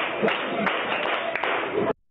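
A crowd at a Joy FM Fantastic Four Tour event applauds, a thick continuous patter of many hands with scattered louder claps, ending abruptly near the close.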